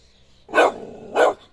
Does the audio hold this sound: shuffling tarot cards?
no